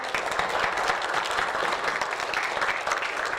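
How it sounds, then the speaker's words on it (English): Children and staff at a school assembly clap together, a steady, moderately loud patter of many hands filling the hall with no speech over it. "Give those guys a big clap."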